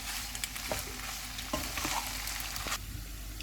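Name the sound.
spicy chicken pasta cooking on low flame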